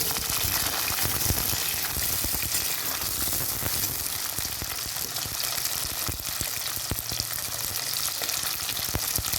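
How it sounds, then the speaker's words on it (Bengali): Cauliflower and potato curry being stirred in a hot pan gives a loud, dense, continuous sizzle and bubbling, with frequent quick scraping clatters from the spoon. "ভালো করে নেড়ে নেব।"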